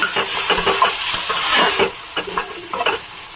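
Tomatoes and onions fry in a pan, giving a close crackling sizzle broken by bursts of stirring and scraping at an uneven rhythm, with no talk.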